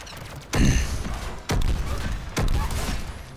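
A shotgun in Mass Effect 3 fires three loud, booming blasts about a second apart, each followed by a ringing decay amid game ambience.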